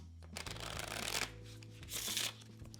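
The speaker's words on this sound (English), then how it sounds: "You start off with the riffle shuffle" A quick riffle shuffle of playing cards, a fluttering ripple of snapping edges, then a second burst as the cards are bridged together, close and alone.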